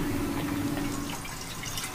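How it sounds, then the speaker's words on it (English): A tap runs on a sailboat: a steady, fairly soft trickle and splash of water, continuous and close, with no voices. "We got running water."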